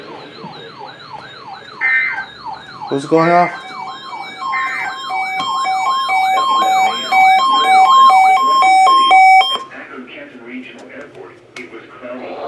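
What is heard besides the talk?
NOAA weather radio warning alarm tone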